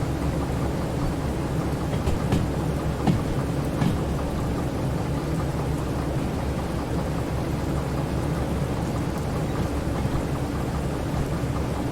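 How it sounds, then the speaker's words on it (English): Rain and thunder in the train game Derail Valley: steady rainfall hiss throughout with a few low rumbles and distant thunder cracks, no voices. "And now it's raining again."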